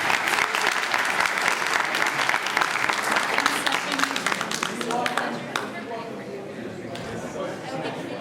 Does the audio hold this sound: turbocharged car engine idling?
no